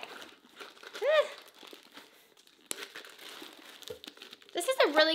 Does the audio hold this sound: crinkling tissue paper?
yes